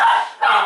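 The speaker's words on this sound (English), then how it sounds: "apologies for the dogs barking in the background" A dog barks twice in quick succession, mid-distance and fairly clear.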